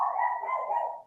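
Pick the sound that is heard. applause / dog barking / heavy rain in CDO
dog barking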